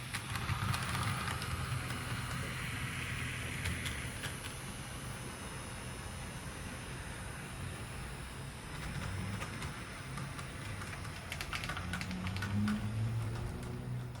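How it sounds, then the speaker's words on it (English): A model railway locomotive running along a newly joined section of layout, producing a faint, continuous mechanical rumbling and light rail clatter with scattered clicks, close and quiet, with no voices. "ran a loco between them for the very first time"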